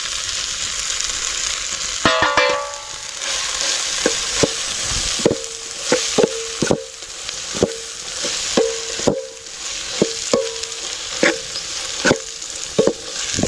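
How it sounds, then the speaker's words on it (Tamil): Chicken gravy being mixed and stirred in a pot while cooking outdoors in a forest setting, a sizzle under repeated metallic ladle knocks against the pot in an irregular rhythm, close and clear, with no talking. "இப்போ எல்லாத்தையும் வந்து மிக்ஸ் பண்ணிக்கிறோம்."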